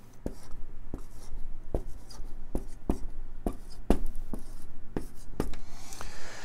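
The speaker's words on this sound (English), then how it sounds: "we're going to write 1 through 7" A pen writing numbers on paper, a run of sharp taps and short scratchy strokes at an uneven pace, close and fairly loud against a faint low hum, with no talking.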